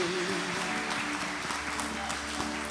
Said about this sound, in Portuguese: Uma salva de palmas para Jesus aí.